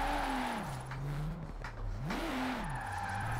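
Car engine in a racing video game revs and swings up and down in pitch while drifting on snowy mountain touge roads, steering with one hand on a 900-degree wheel with clutch and left-foot braking; loud and continuous, no talk.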